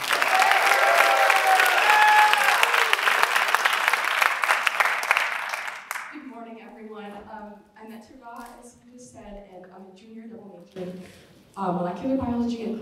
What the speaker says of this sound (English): So let's give one more round of applause for Metti.